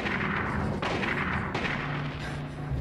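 Near the end of Silent Hill, loud gunfire booms out as a few heavy shots within a few seconds, each a sharp blast with a rumbling tail over a low, steady background.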